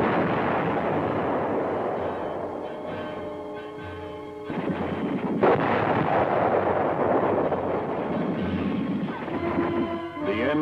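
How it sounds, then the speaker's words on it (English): Heavy battlefield fire as tanks and anti-tank guns engage in combat, with continuous loud rumbling booms and blasts layered densely over the whole stretch, rising in intensity midway. "the tanks meet heavy fire from enemy tanks and anti-tank guns"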